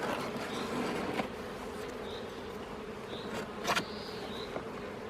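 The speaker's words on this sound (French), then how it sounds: "Voilà, ça a l'air de bien déborder d'abeilles aussi." Honey bees buzz in a continuous, faint hum around an open spring hive, with a few individual bees droning past a little closer.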